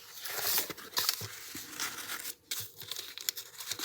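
Scissors trimming a paper strip for paper weaving, close and soft, with crinkling snips and rustling paper handled in short irregular bursts.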